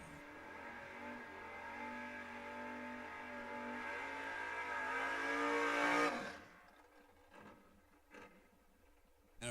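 A wagon-bodied race car at a drag race roars loud and close with a rising engine rev for about six seconds, then cuts away, leaving quieter background noise and a few faint engine bursts.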